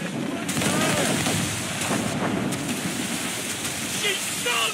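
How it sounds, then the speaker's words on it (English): Enemy gunboats firing mortars at sea in Assassin's Creed Rogue, heavy booms and cannon blasts over rushing waves, with shouting voices mixed in. "They're firing mortars!"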